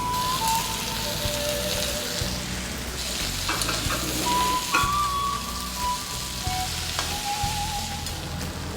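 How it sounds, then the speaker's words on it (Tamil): Vegetables sautéing in a pan for Pongal, giving a steady close sizzle with stirring scrapes throughout, alone without talk. "காய்கறி வதங்கிட்டு இருக்கு."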